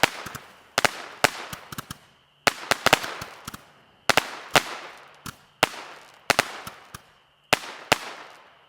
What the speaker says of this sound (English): oh, some nice crackle, too.